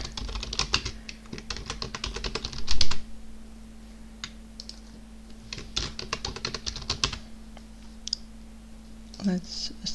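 Rapid clicking of a computer keyboard as a caption is typed, bursts of keystrokes separated by short pauses, close and fairly loud with a steady low hum underneath.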